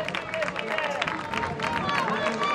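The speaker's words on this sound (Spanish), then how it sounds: "Fuerte el aplauso." Applause and crowd noise at the 800 m M45 final of a track meet, dense clapping and cheering mixed with murmuring spectators, steady and fairly near throughout, with an announcer's voice faintly present.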